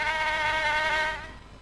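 A mosquito buzzes in a thin, steady whine close to the ear, holding at an even level for more than a second before fading slightly toward the end.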